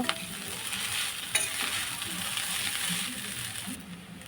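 Chicken chowmein is stirred and tossed in a pan, giving a soft, steady sizzle with scraping and a brief clatter from the utensil, fairly quiet and without speech.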